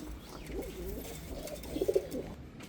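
Breeding pigeons coo softly in a loft, low muffled burbling calls rising to a slightly louder cluster near the end over a faint background hum.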